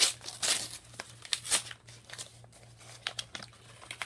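A paper envelope holding a DVD is torn and opened, with crisp crinkling, rustling and tearing in irregular bursts close by, and no talking.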